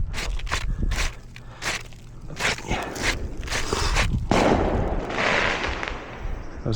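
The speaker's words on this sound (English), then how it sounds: "There's fireworks going on right there." Fireworks bursting outdoors during a repair job, a quick run of sharp pops and cracks followed by a denser crackling rumble, fairly close and loud with no talk.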